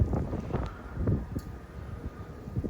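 Wind gusts from a winter storm buffet the microphone outdoors in an empty city, with low, rumbling bursts, faint and uneven across the few seconds.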